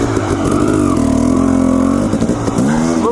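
A Husqvarna TE250 dirt bike engine revs loud and close, its pitch rising and holding steady before a brief dip and a second climb, with no talking over it.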